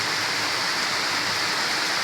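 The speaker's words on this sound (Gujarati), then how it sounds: "કેટલો બધો વરસાદ ચાલુ છે જો વરસાદ પડે છે." Heavy rain pours steadily outside, a dense, constant hiss of falling water close by with no talking.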